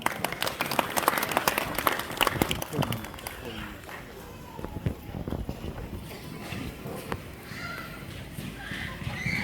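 Audience applause welcoming a guest speaker at an Afghanistan Independence Day celebration in Brisbane, a steady wash of clapping from a crowd filling the room for several seconds.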